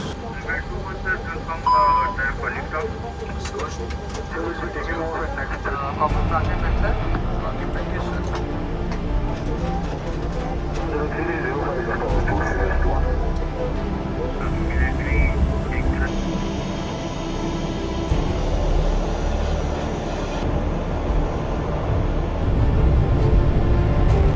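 A fixed-wing aircraft engine drones steadily during a takeoff run in northern Pakistan, a continuous broadband roar that rises partway through while voices talk over it.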